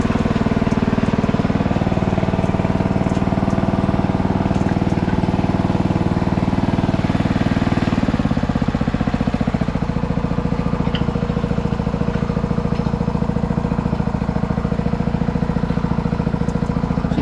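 An engine runs loud and close while a pipe is pulled out of the ground, holding a steady idling drone with a lower, heavier rhythmic chug after the midpoint, and no talk over it.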